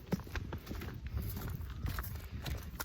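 A 17.2-hand horse walks with soft, steady hoof clip-clops, fairly faint and close, with no talk over it.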